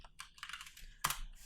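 Quick bursts of typing on a computer keyboard, soft clustered key clicks followed by one sharper, louder keystroke near the end, close and fairly quiet with no voices.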